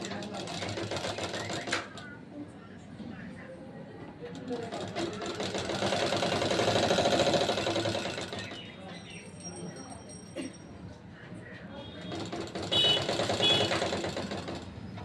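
A sewing machine stitches the round neckline of a women's nightie in bursts of fast, even whirring, separated by brief pauses, close and moderately loud, with someone talking in between.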